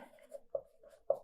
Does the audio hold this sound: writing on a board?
yes